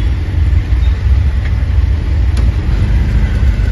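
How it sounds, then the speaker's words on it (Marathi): Steady road traffic rumbles on the way to Kharoshi, a continuous low engine drone with passing vehicles and wind, with no clear horns or speech. "गाईज ट्रॅफिक बघा किती आहे"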